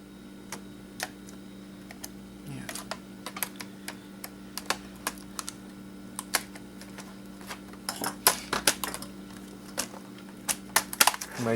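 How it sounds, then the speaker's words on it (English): A laptop keyboard being pried out, with a string of sharp plastic clicks and snaps that grow denser and louder toward the end, close by over a quiet steady hum, with no talking. "I'm gonna have to pop out the keyboard."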